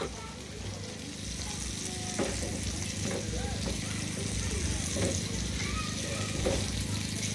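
Lamb sizzles steadily in a hot pan, a dense crackling hiss throughout, with a voice talking over it.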